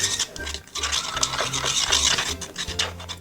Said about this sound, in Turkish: Daha sonra ben şöyle bir çubuk buldum. Evde onunla karıştıracağım.